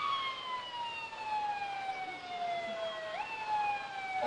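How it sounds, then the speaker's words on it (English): A fire engine's siren wails during an outdoor evening parade of lights in Cortez, Colorado, a slow, falling, then rising tone heard at moderate distance over crowd background noise. "Another engine number 58 is coming through from Pleasant View Fire."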